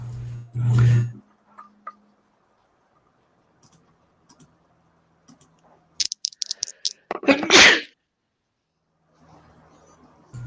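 A short burst of noise early on, then scattered faint clicks and a sharp, breathy sneeze-like blast near the end, with long quiet gaps between.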